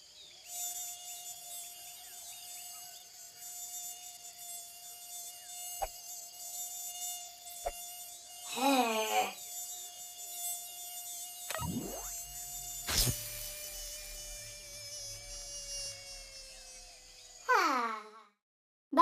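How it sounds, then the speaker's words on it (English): Mosquito buzzing in a mobile word game, a thin steady drone running throughout with a few short chime-like game tones rising over it, moderately loud and alone. "That mosquito adores me, but swatting him bores me."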